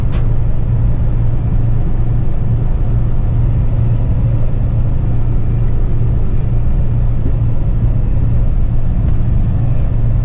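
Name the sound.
gravel stuck in truck tires, Kenworth truck video game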